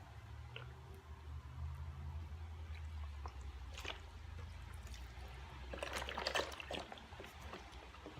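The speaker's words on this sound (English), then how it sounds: "Now I'm adding a box of beef broth" Beef broth glugs from a carton into an Instant Pot, a soft liquid pour that swells and splashes more strongly toward the end, quiet and close with no talking.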